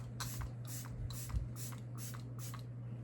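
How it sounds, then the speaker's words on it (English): Makeup by Mario setting spray misted in six quick, evenly spaced hissing pumps, close and fairly soft over a steady low electrical hum. "This is the Makeup by Mario setting spray."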